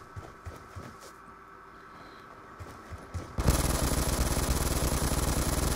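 Scattered low thumps at first, then a sudden dense burst of continuous rapid gunfire that stays loud and harsh to the end.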